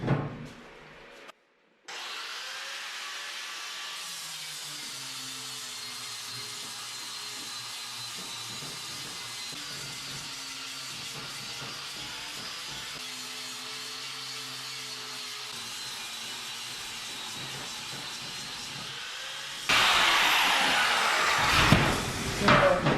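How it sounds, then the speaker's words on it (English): Angle grinder smoothing welds on a homemade metal ski and snowboard rail, a steady, loud grinding whine that wavers in pitch as the disc presses and eases, with a harsher rasp near the end. "let's grind these welds smooth here so everything's all nice and hunky-dory"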